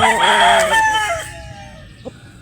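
A bulik gamefowl rooster crows once, close and loud, a long cock-a-doodle-doo that falls away into quiet, followed by a faint short cluck.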